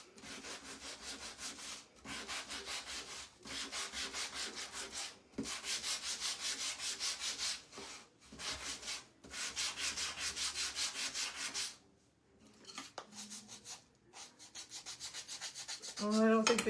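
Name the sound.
sanding wood with a sanding block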